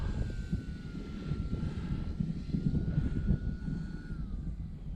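A Timber X aircraft in a flying video game holds a steady drone with a faint whine layered over it, close and constant throughout, with no voices.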